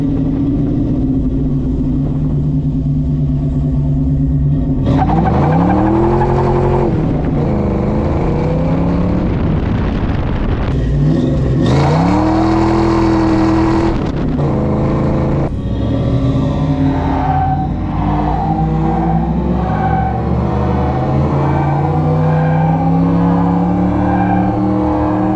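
A Fox body Mustang engine drones and revs hard through repeated accelerations, pitch sweeping up and down with juddering surges, loud and continuous with no talk.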